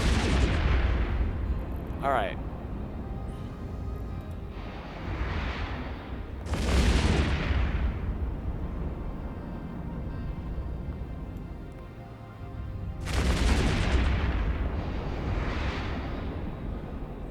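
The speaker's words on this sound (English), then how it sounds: "They're firing missiles at me." Missiles fired at the player's ship in a space video game, heard as several loud whooshing bursts and blasts spaced a few seconds apart over a continuous low rumble, with someone speaking briefly.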